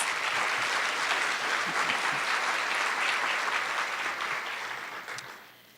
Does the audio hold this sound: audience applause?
yes